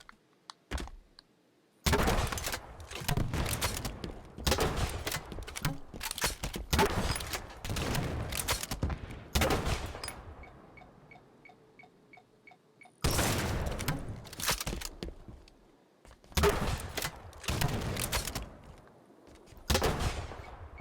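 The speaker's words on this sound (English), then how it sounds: "This is easily my favorite fuel rod gun design." Fuel rod gun in Halo 5, firing repeated sharp blasts in clustered volleys with punchy explosive impacts, loud against quiet gaps and a brief humming lull midway.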